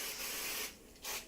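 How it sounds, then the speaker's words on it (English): Cooking spray hisses onto the bottom of a baking pan for caramel cinnamon rolls in a home kitchen, two close bursts of broadband spray separated by a short pause. "A little bit of spray on the bottom there."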